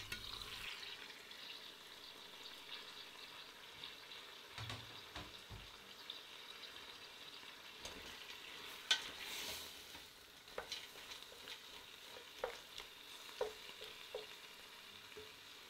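Chopped vegetables and lobster shells sauté in a pan for a lobster bisque, a quiet steady sizzle broken by the scrape and clatter of stirring.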